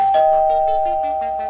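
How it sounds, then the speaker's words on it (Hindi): A doorbell rings once, a loud close electronic chime with a sustained tone and a quick repeating melodic pattern, fading over about a second and a half. "तभी डोरबेल बजा"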